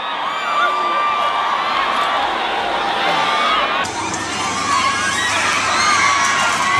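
A large festival crowd at the Wireless main stage cheers and screams continuously and loudly, with high shouts and whoops throughout.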